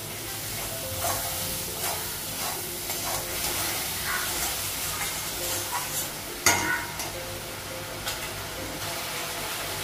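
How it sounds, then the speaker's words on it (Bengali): Turmeric with spices frying in a pan, a steady sizzle and hiss mixed with the scrape of stirring, including one sharper clatter partway through, with no speech. "হলুদ দেবেন, ভেজে দেবো।"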